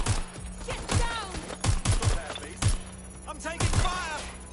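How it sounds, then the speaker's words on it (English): Sharp bursts of gunfire crack in quick clusters in Watch Dogs: Legion, with shouted voices and echoing impacts between shots. "Gunfire! Get down!"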